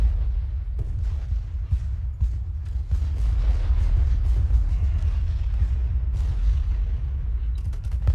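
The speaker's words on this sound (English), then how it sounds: "You're just moving artillery right on top of us." Artillery fire in Ultimate General Gettysburg, a Civil War battle game: a continuous low rumble of booms and distant cannon thuds rolls on steadily, with no voices over it.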